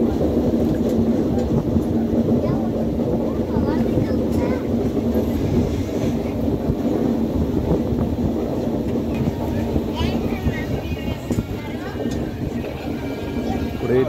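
Steady rumbling roar of a train moving at speed through tunnels in a forested area, constant and loud throughout with faint voices underneath.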